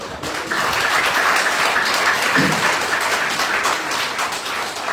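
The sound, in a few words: audience applause for a guest at a business seminar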